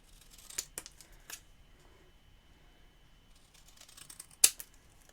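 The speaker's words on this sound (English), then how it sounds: "Going to cut this out." A few quiet, crisp snips of scissors cutting cardstock, spaced apart, with soft rustling in between in an otherwise quiet room.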